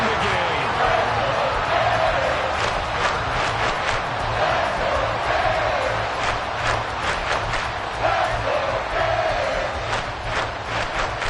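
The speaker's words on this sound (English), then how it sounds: "This crowd turning up the decibel level." Stadium crowd in a Madden football video game roaring at a steady high level, a dense rolling cheer that swells and holds, with a commentator's voice running over it.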